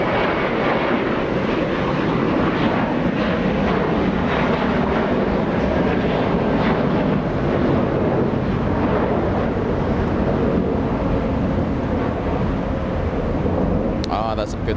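An American Airlines Airbus A321 jet on a flight to Atlanta at Los Angeles International Airport, heard as a broad, sustained engine roar with wind buffeting the microphone, holding steady for the whole stretch.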